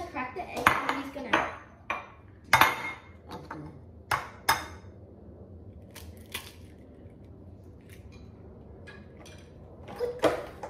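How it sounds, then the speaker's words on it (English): An egg being cracked for homemade brownies in a home kitchen, heard as a few sharp knocks and clinks against a dish spread over several seconds, close by and fairly loud against a quiet room. "Emery's gonna crack the egg"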